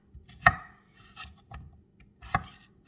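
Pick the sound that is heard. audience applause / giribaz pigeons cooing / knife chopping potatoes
knife chopping potatoes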